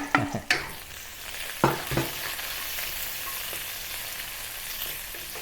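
Green onions and ginger sizzle in hot oil in a wok, with a few sharp scraping stirs of the spatula early on before a steady close frying hiss takes over.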